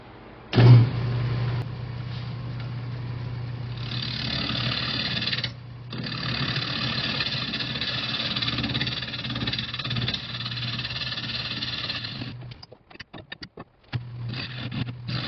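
Wood lathe spinning at about 1,000 RPM while a gouge hollows a sissoo natural edge platter, a steady motor hum with a continuous scraping cut that stops abruptly near the end, leaving broken rattles.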